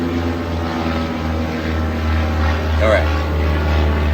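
Two propeller airplanes pass overhead during a morning outdoors, a continuous loud low droning hum that swells slightly as they go by, with a brief spoken word near the middle.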